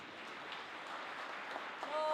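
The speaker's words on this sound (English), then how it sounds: "a round of applause to everybody in the room" A round of applause fills a room at a research day event, steady clapping from many people held at an even level for a couple of seconds.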